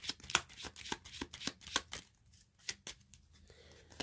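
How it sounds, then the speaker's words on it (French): Tarot cards being drawn and shuffled, with a run of crisp, close papery riffles and flicks through the first two seconds, then sparser slaps and slides of cards settling. "tirer 3 cartes hein, et je vais regarder la tendance générale du mois"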